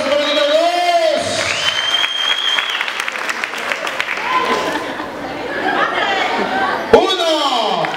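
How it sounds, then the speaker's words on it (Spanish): A school crowd applauds a contestant at a telesecundaria contest with steady, dense clapping and chatter throughout, mixed with shouts, whoops and a voice calling out over the noise. "¡Aplauso para el número 2!"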